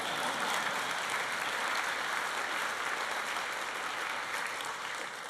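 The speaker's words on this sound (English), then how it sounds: "that deserves a round of applause, I think" Audience applause fills a political party conference hall, a dense, steady wash of many hands clapping at once that holds loud throughout and eases slightly at the very end.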